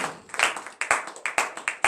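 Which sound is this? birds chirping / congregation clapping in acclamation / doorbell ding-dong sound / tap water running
congregation clapping in acclamation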